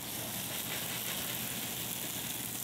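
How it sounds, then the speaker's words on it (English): A pump sprayer hisses steadily and close as deck cleaning chemical is sprayed over a wooden deck, a continuous dense spray with no pauses. "We're just gonna spray this all over the deck."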